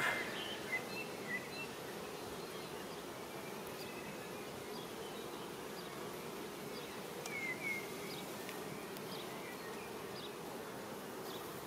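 Dense, continuous buzzing of honey bees at an open beehive in an apiary, a close swarm hum that stays steady throughout with occasional brighter individual bee passes.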